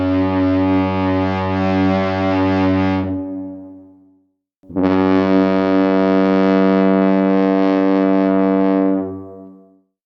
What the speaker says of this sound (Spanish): una bocina ensordecedora que hace temblar el aire